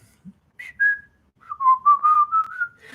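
A person whistles a short melody up close, a couple of held notes followed by a run of connected tones, with quiet gaps between phrases.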